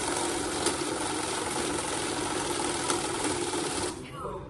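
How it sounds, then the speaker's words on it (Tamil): A cash counting machine runs through bundles of banknotes with a fast, continuous mechanical whirring flutter, loud and close, which winds down in the final half second. "இந்த மாதிரி எத்தனை கட்டு நீங்க போட்டாலும் அதோட சேர்த்து உங்களுக்கு கவுண்ட் பண்ணி ஆட் வந்து எவ்வளவுங்கிறத உங்களுக்கு சொல்லிடும்"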